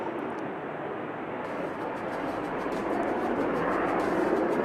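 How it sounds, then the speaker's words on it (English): A jet aircraft flying a low maneuver at the Aero India 2025 air show in Yelahanka, Bengaluru, roars steadily as a broad continuous engine wash that grows slightly louder. "As the aircraft turns right at 500 feet, it will demonstrate its first maneuver."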